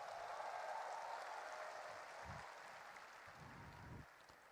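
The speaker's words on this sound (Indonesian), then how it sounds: "Belum selesai udah tepuk tangan." Faint, distant applause from an audience of party members at a Gerindra party event, a sustained patter of clapping that slowly fades, heard alone without talk.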